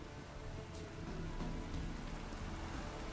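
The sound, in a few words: rain in the video game The Witcher 3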